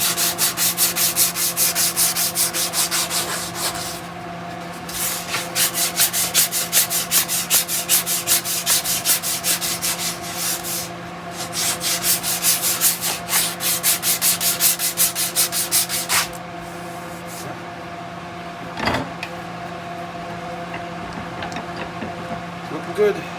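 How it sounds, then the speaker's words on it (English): Steady back-and-forth rasping of 120-grit sandpaper on a sanding block, working over a hand-carved wooden guitar neck. The strokes are close, loud and rhythmic, with a brief pause partway through, over a constant low hum. "a bit of sandpaper now afterwards, or a bit of 120 sandpaper"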